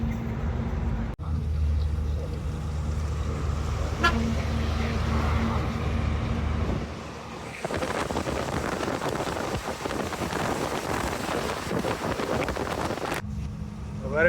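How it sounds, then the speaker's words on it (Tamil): Heavy road traffic stopped at a signal in Kerala, with an engine hum and rumble giving way to a dense wash of vehicle noise and scattered horn toots, fairly loud throughout. "பாருங்க சிக்னலுக்கு எவ்வளவு தூரம் வண்டி நிக்குது பாருங்க ஃபுல்லா."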